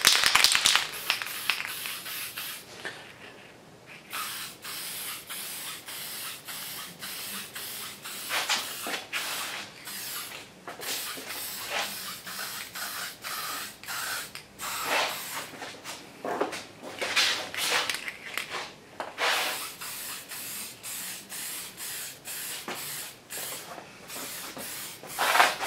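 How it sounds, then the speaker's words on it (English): Spray paint hisses in repeated bursts onto a Xigmatek computer fan, short close blasts separated by brief pauses and rustling handling noises, with no talking. "then you can get to spraying"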